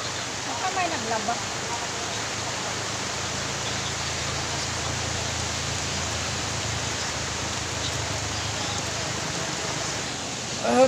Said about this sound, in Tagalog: Kasi may ulan.